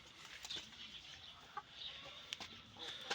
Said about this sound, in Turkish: Şimdi Şöyle burada yatan bir grup tavuk var.